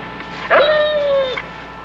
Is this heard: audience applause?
no